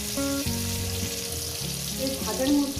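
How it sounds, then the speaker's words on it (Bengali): Tomatoes softening in hot oil give a bright, continuous sizzle up close, with light stirring and occasional clinks of a utensil against the pan. "বেশ নরম করে ভেজে নেবেন,"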